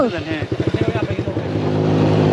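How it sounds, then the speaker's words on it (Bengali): A motorcycle labouring along a rough, dangerous hill road, its engine throbbing in rapid loud pulses before settling into a steadier drone, heard close. "সামনে আপনি বাইক চালাচ্ছেন"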